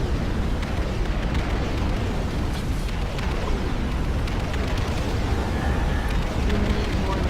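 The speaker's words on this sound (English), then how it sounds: "I'm going to launch a bombing strike against this group" Bombing strike explosions in the strategy game Ashes of the Singularity form a dense, continuous rumbling roar of overlapping blasts, loud and sustained throughout.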